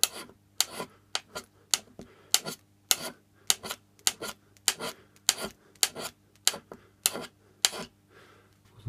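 A hand scraper works the flats of a Myford 7x7 lathe cross slide in long strokes, each one a sharp rasping scrape. About fifteen of them come in a steady rhythm, close and fairly quiet.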